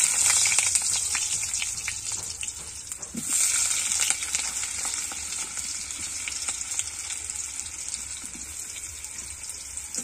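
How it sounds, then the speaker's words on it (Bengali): Potatoes frying in oil in a pan give a continuous, close crackling sizzle that holds steady throughout, with no talking. "তো আলুটা ভাজা হচ্ছে,"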